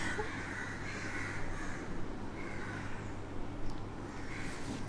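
Crows caw outdoors in a few rough, drawn-out calls rising above a steady low hum of distant traffic, moderately loud with no talk.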